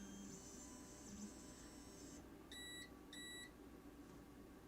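Two short electronic beeps from an Elegoo Mars resin 3D printer sound in quick succession, each a brief high tone, over a faint steady machine hum.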